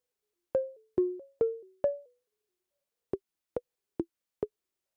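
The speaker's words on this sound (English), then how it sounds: "to do a fun little pinging rhythms patch here" A modular synthesizer rhythm patch pings out four resonant, pitched blips with quickly decaying tails, each pair stepping between two notes, then after a short gap four shorter, sharper pings at a steady pulse, clean and isolated.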